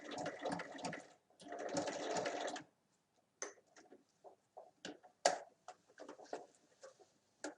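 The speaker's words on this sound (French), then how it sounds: "On pique dans l'autre sens." A sewing machine stitches fabric for a multi-pocket bag: two long, steady runs of rapid stitching, then a string of short stop-start bursts and clicks after the presser foot is lifted and the work turned.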